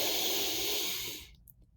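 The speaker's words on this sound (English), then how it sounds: "So you'll hear my breathing. I'm going to do it really deeply." A person takes one slow, deep breath in, a long airy hiss that fades out after about a second, close and alone.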